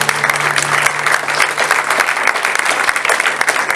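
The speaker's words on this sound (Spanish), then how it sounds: "Démosle un buen aplauso al Señor." A church congregation breaks into loud, sustained applause, dense clapping from many people with a faint hum beneath it and no speech over the top.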